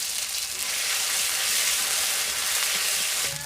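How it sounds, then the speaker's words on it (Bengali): A paste of ground ginger and cumin sizzles in hot oil with bay leaf, giving a steady, bright frying hiss up close with no voices. "তেজপাতা কিছুটা জিরে কিছুটা আদা আর জিরে বেটে রেখেছি এটা আমি ফোড়নে দিয়ে দিচ্ছি"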